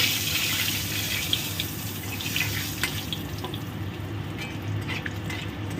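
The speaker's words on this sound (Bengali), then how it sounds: "এই তেলের মধ্যে দুটো শুকনো লঙ্কা ভেজে তুলে রাখব" Two dried red chillies sizzle in hot oil, a steady dense crackle and hiss running without a break, close and moderately loud, with no voices over it.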